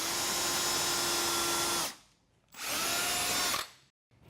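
A handheld power drill spins up in two loud bursts, a steady high whine for about two seconds, a short pause, then another run of over a second before stopping.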